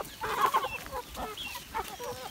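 A group of farm hens clucks excitedly around feed being put down, with irregular bursts of calls, near and moderately loud, and no speech.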